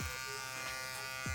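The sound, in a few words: electric hair shaver cutting afro hair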